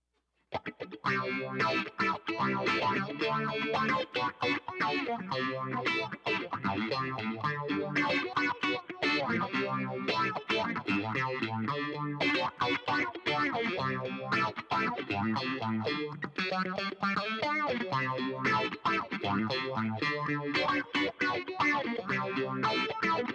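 Electric guitar playing a funky, rhythmic riff through a Boss ME-90 fast warbling modulation effect, giving a pulsing, wobbly tone that runs steadily throughout.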